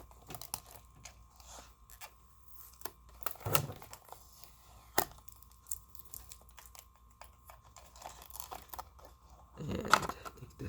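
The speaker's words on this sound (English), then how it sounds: "And take this bit of tape off." Adhesive tape peeled off the packaging of a Honda Vezel (HR-V) model-car keychain, a few soft crinkling rips and taps heard close up, with one louder tearing burst near the end and no talk.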